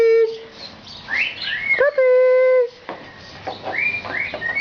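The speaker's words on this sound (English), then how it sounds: "Oh, puppies." Puppies yelp and whine in high, tonal squeals, some sustained and some short, close by and fairly loud, with a voice talking softly in the background.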